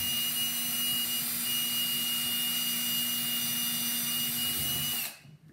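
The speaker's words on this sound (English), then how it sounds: "I'm just going to drill my 2 pilot holes right where the holes are for the screws." A power drill runs continuously with a steady high whine, close and fairly loud, while pilot holes for screws are drilled for a ceiling vent, then it stops abruptly at the end.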